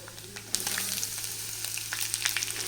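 Sliced onions for cauliflower masala hit hot oil in a pan, a steady close sizzle breaking out suddenly after a quiet moment and crackling on with scattered pops.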